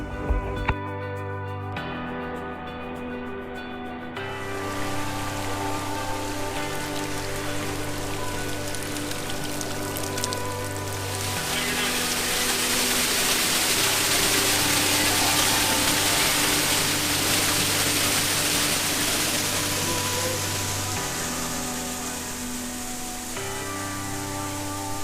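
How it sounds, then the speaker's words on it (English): Rushing waterfall on a hiking trail near Hot Springs, Arkansas, a loud continuous roar and gush that swells in the middle, heard alone beneath sustained tonal music with no talking. "Cassie, we're about to see the waterfall."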